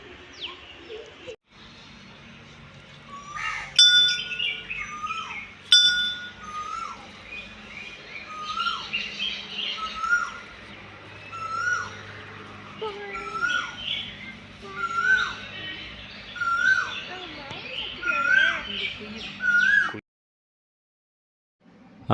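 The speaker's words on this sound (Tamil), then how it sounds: "அந்த குயில் கூவுறது பார்த்தீங்களா அந்த சவுண்டு கேட்டிருப்பீங்க" An Asian koel calls repeatedly near the Murugan temple at Karunkaradu, Gobichettipalayam, its rising whistled notes carrying clearly over a chorus of other birds and light background noise. There is no talk.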